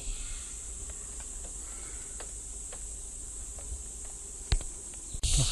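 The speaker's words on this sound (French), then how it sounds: "Avec les cigales, d'autres bruits bizarres que je sais pas ce que c'est." A forest near Port Macquarie hums with cicadas and other insects, a constant high buzzing drone with scattered faint clicks and chirps, ending with a couple of louder nearby knocks or rustles.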